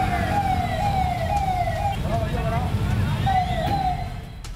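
A wailing ambulance siren, the ambulance stuck in a flooded underpass, sweeps up and down repeatedly over steady traffic rumble, loud and fairly close, fading slightly at the end.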